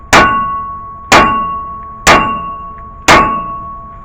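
Repeated hammer strikes on the steering knuckle of a 2001-2006 Cadillac Escalade to knock a tie rod loose, four loud evenly spaced metallic clangs about a second apart, each ringing on briefly.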